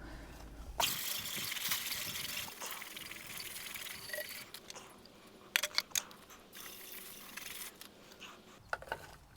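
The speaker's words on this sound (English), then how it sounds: "I'm just going to go spray it off with a hose and get this all cleaned out." A garden hose sprays water in a continuous hissing rush, with occasional knocks and clatters as the spray shifts across the hard surface of a pool sand filter being cleaned out.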